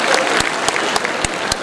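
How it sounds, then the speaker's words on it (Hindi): Dense audience applause fills a comedy show in Delhi, loud and continuous with sharp individual claps standing out, and no talking over it. "ताली बजाओ खुल के।"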